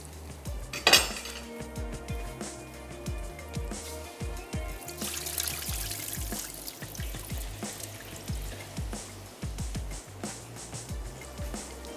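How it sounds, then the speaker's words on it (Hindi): Water drains from cooked rice in a home kitchen, a continuous trickling and dribbling run through with clinks of pots and utensils, close by and moderately loud. "मैं राइस का पानी निकाल लेती हूँ"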